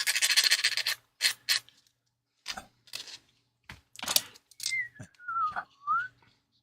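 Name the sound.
sanding rusty metal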